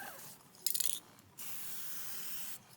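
Lube sprayed from an aerosol can onto a warm motorcycle chain: a short sputtering burst, then one longer steady hiss, close and moderately loud, with no talk.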